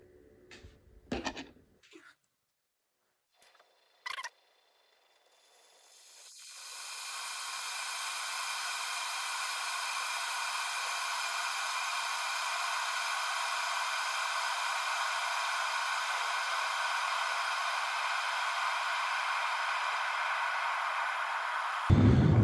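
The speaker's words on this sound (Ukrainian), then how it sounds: "Вентилятори до сих пір охолоджують." A few clicks and a knock, then a portable power station's cooling fans spin up while boiling a litre of water, running with a steady, even whoosh that cuts off abruptly at the end.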